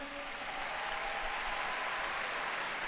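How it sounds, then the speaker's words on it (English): Steady crowd applause fills an indoor arena at a women's artistic gymnastics World Challenge Cup event finals in Osijek, a continuous, moderately loud clatter of clapping hands with no break. "Round of applause given by the crowd for Tina Zelcic and Christina Zwicker."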